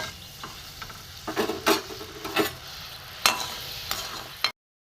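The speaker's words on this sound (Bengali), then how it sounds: "রসটা ফুটছে" Sugar syrup with cracked cardamom bubbling in a pan for motichur laddu: soft, uneven bubbling and sizzling bursts, a few sharper pops standing out over a quiet background, no talk.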